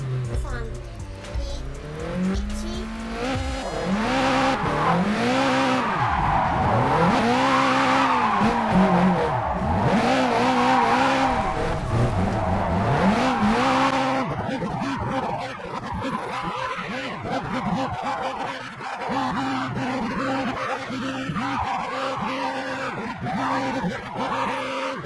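Nissan S13 drifting in the Japanese Drift Master video game, engine wailing and revving up and down while tires squeal and skid in long sweeping slides back and forth, loud and continuous, with a voice talking over it.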